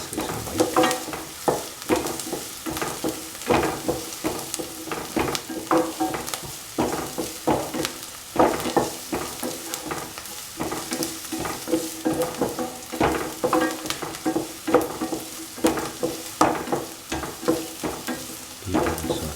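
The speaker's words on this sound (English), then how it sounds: "Heat and saute so that all the ingredients get nicely incorporated with each other." Onions and spinach rice being sautéed in a pan, a continuous sizzle broken by rhythmic scraping and tossing strokes of a spatula, loud and close throughout.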